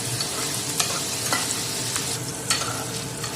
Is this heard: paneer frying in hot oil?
yes